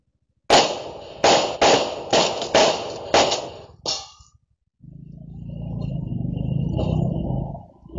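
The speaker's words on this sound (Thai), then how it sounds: "มาสาดกระสุนใส่บ้านเลย" Rapid burst of five or six sharp gunshots fired at a house in the middle of the night, recorded on a CCTV camera, followed by a short gap and then a sustained rumbling, hissing noise.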